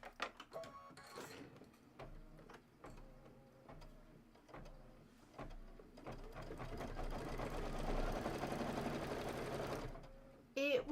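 A sewing machine stitches a quarter inch seam on fabric for a table topper, starting in short bursts of needle strokes then running in a longer steady whir, close and clear.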